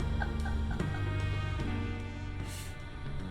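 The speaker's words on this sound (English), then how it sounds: "You're scaring the birds." Bird calls from the Cursed Words video game, a turkey-like gobbling and clucking fowl sound mixed over steady game music, moderately loud and continuous.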